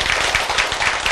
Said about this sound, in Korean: 이거 박수 한번 칠만 하지 않아?